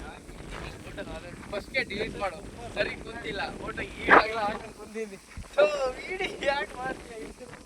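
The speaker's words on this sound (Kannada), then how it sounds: "ಇದು ಚೆನ್ನಾಗಿ ಗಾಳಿ ಬೀಸ್ತಾ ಇದೆ ಫುಲ್ ಗಾಳಿ" Wind buffets the microphone in gusty rumbles while people talk over it outdoors.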